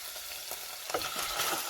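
Frozen catfish, washed in vinegar, hitting a hot pan for a spicy stir-fry, giving a loud, continuous hissing sizzle that swells slightly toward the end.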